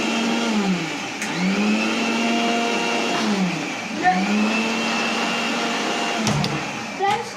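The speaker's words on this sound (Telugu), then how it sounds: "వద్దా ఇంకా గ్రైండ్ చేయాలి." A kitchen blender grinds an Oreo shake, its motor whining steadily with repeated rising and falling pitch sweeps as the blades churn, loud and close for several seconds.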